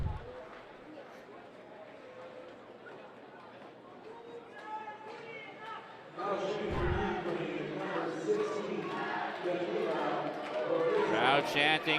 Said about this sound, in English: Crowd chanting for Bereza.